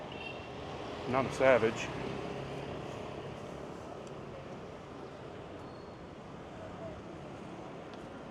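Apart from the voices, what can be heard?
strong wind gusting outdoors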